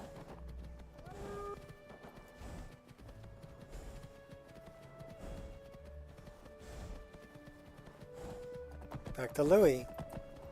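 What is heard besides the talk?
horse hooves clip-clopping in video game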